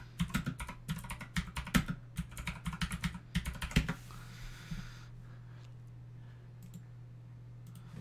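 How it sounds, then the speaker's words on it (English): Rapid clacking keystrokes on a mechanical keyboard, loud and close, come in irregular bursts for about four seconds, then stop and leave a steady low hum with a few stray clicks. "I recently got a mechanical keyboard, so enjoy that noise."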